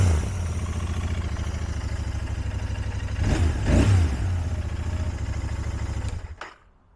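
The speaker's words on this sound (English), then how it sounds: "I'll give it a couple small revs for you." A cold 2023 Royal Enfield Continental GT 650 engine idles steadily, then two small revs swell mid-clip before it settles back and cuts off near the end; loud and close, no talking.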